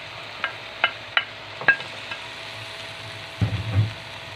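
Mussels cooking in a pan for Bicol Express, with several sharp scraping stirs and clacks against the pan early on, then a brief low sizzling burst near the end, close and loud.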